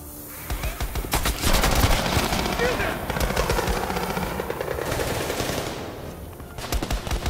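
Loud, sustained automatic gunfire from the video game Call of Duty: Black Ops Cold War, dense bursts and shots layered over a rumbling battle backdrop with game voices.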